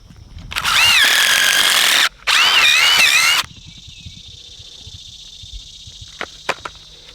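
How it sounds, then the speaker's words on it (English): A power drill bores into rock-hard farm ground in two loud whining bursts separated by a brief pause, followed by quieter rustling and a few small knocks. "when it's hard as a rock, you have to use a drill gun"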